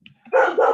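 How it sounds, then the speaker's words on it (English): A single sharp bark from a large dog, close and loud, preceded by a faint yip, heard alone. "my dog's barking"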